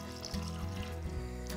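Water runs and pours steadily into a soup pot, a continuous gurgling flow with a faint rising tone as it fills.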